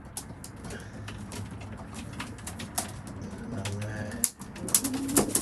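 Racing pigeons coo softly in a loft during weaning, low murmuring calls layered with occasional wing flaps and light patter, steady and close throughout.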